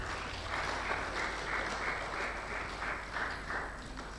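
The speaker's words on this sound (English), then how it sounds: "Please, can we give them a round of applause?" Workshop audience applauding in a hall, a steady wash of many hands clapping at moderate level with rhythmic swells throughout, no voices standing out.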